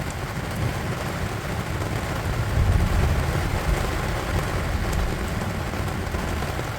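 Steady heavy rain drums outside a narrowboat while thunder rumbles low and continuous through the storm, swelling slightly midway.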